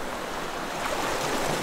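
Sea waves used as a sound effect in a children's radio play: a steady, dense wash of surf that swells slightly toward the end, heard alone without any voices.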